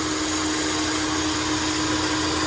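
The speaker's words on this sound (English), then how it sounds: "There's your spindle start." A CNC machine spindle running up produces a steady, dense, loud whine with a constant tonal hum that holds level throughout, close by and with no talk.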